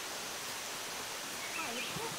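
Waterfall at a river sightseeing spot near Pattaya, a steady broadband rush of falling water filling the whole clip, with faint voices briefly audible over it.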